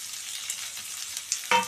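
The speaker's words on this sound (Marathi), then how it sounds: "खूप छान परतून घ्यायचं आहे या स्टेजला" Bitter gourd pieces sautéing in a pan give a steady soft sizzle throughout, with a brief louder clatter of stirring near the end.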